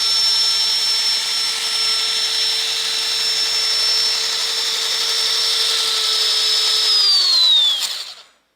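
An Axial Max-D monster truck RC model's electric motor runs at full speed on a fully charged battery, a loud steady high-pitched whine held for several seconds before it winds down quickly and cuts to silence.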